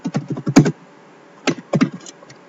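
Quick close clicks of typing on a computer keyboard, a rapid run of keystrokes followed by a pause and then a few more taps, with no talk.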